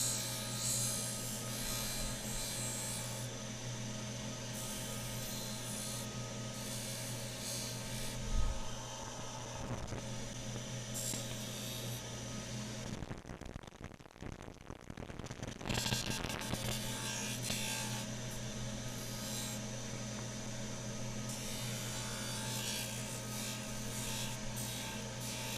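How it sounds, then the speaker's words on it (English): The edge of a grinding wheel trims a dental retainer, producing a continuous motor hum with rough grinding texture that dips briefly about halfway through before carrying on steadily. "I'm just taking the edge of the wheel and thinning it down that way"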